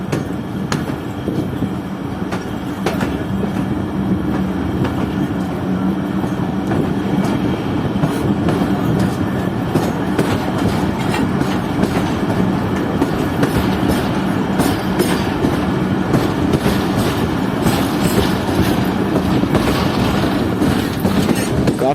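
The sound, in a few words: train approaching Hirup railway station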